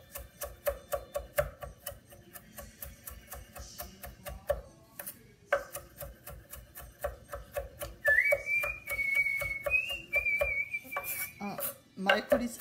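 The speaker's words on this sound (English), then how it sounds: "knife, and we chop the parsley" A knife chops parsley on a cutting board in a kitchen, a fast steady run of close, crisp taps, with a brief whistled tune heard partway through.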